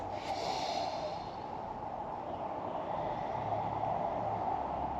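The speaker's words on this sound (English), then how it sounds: "Really deep breaths." Deep, steady breathing during a Kundalini kriya for energy, heard as a continuous airy rush of breath close to the listener with no speech.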